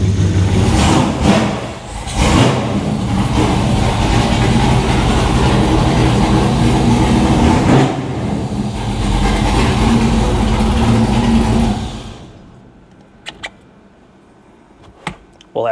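A lowered Chevrolet squarebody truck runs close by as it is pulled out and turned around, a loud, steady engine rumble with a few sharp knocks that cuts off abruptly into near silence, followed by faint clicks.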